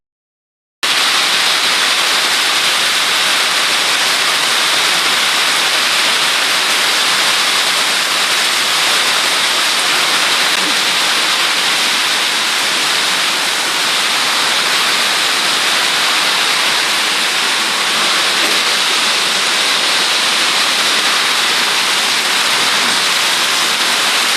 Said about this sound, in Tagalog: Sobrang lakas po ng ulan at ngayon po ay bagyo talaga.